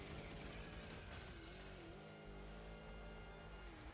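Land Rover-style vehicle engine running in Helldivers 2, a steady, continuous drone with shifting pitch as it drives, heard alone at low volume.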